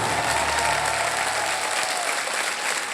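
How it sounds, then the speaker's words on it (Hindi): Steady, dense applause for a band from a large television game show audience, loud and continuous throughout. "जोरदार तालियां उन बैंड के लिए"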